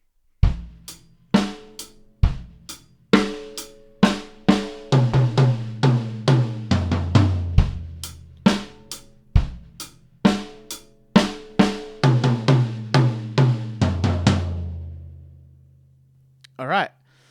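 Drum kit plays beat number nine of a lesson set, a groove ending in a one-bar fill. Steady, punchy hits repeat for about fourteen seconds, get denser toward the end, then ring out, with one late stray hit.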